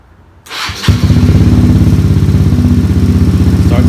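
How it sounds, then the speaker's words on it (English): A motorcycle fitted with a new Antigravity AG-801 lithium battery cranks briefly and then fires up, settling into a loud, close, rapidly pulsing idle that runs steadily to the end. "So let's go stick it in there and see how the bike starts up."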